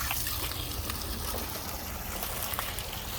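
Water gushes steadily from a borewell on a rural village property, a loud continuous broadband rush of flowing water with no pauses.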